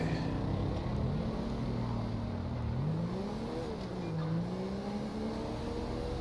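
A motorcycle in GTA's Los Santos accelerates away, its engine a steady revving drone with rising and falling pitch as it speeds off at high rate, continuous and moderately loud over a background hum.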